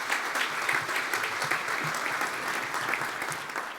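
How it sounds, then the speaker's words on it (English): A roomful of people at a leadership breakfast applauds a speaker, an even, continuous patter of clapping at moderate volume with no talk over it. "Let's give him a round of applause, y'all."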